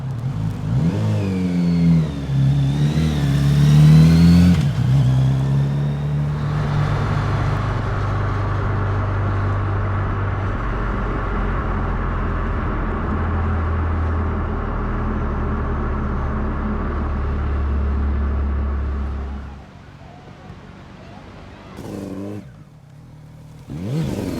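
A Kawasaki Z900 RS motorcycle on the road, its engine loud and near as it revs and accelerates through the gears, then settles into a steady cruising drone before easing off, with wind rush and no talking.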